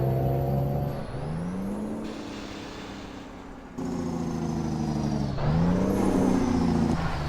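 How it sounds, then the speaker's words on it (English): A truck's engine brake in American Truck Simulator: a loud, droning engine tone that rises and falls in pitch over several cycles, with brief drops and surges in level, and no voices. "The engine brake sounds pretty good."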